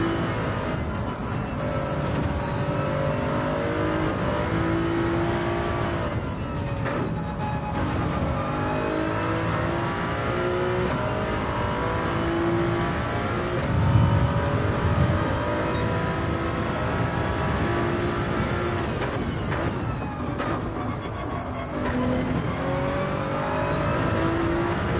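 A race car engine accelerates hard in second gear, roaring continuously at high revs with brief drops between pulls over about twenty-five seconds, loud and close.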